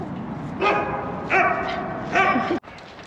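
Three short bursts of yappy barking from a puppy on a trail, each lasting about half a second, fairly close with a steady background hum between them.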